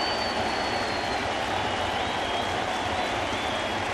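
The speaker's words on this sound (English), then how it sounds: "he will walk slowly to the Yankee dugout and get a big hand from the crowd" A baseball crowd at Yankee Stadium applauds a player walking back to the Yankee dugout after a big defensive play, a dense, steady wash of clapping and cheering that fills the whole stretch at even volume.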